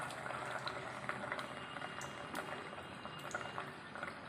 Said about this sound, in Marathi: आता हे डीप फ्राय करून घेऊया